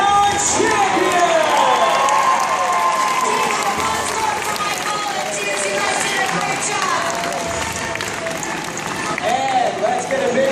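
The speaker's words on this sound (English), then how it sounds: "let's get a big round of applause for Jamie as well" Live stunt-show audience applauding and cheering for a Fear Factor Live competitor, a sustained crowd roar with clapping and an announcer's voice over it.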